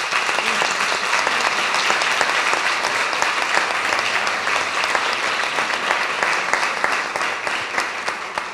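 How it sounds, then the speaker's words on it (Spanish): An audience at a mathematics and music lecture bursts into sustained, dense applause, many hands clapping steadily and loudly throughout, with no talking. "dar un fuerte aplauso a Mariana"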